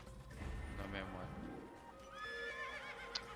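A horse in the Assassin's Creed video game neighs loudly and close, with a shrill whinny and clip-clop of hooves, partly under someone talking.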